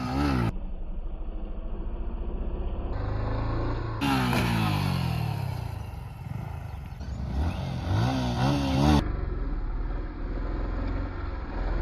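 A Yamaha MT-15 motorcycle revved hard to around 9 RPM for a wheelie, its engine note rising and falling in repeated surges, close and loud, with abrupt cuts between segments.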